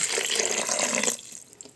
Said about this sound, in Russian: неполный стакан воды